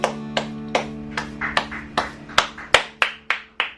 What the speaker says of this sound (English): Alejandro's clapping in the background